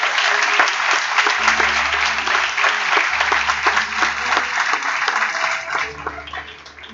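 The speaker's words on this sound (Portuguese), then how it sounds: "Vamos aplaudir o Senhor mais uma vez?" A church congregation at a Portuguese-language worship service breaks into loud, sustained applause, dense clapping filling the whole stretch over a low, intermittent hum of instruments.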